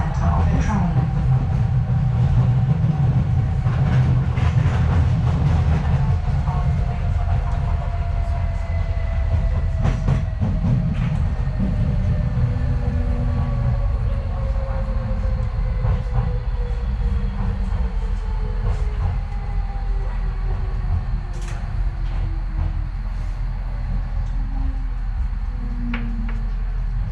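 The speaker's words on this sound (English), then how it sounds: "This train is for Bank." A London DLR train runs between stations toward Elverson Road, heard from inside the carriage. A steady low rumble carries rhythmic clickety-clack and a long descending motor whine as the train travels and slows.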